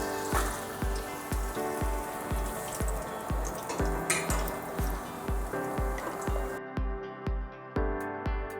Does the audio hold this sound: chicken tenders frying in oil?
yes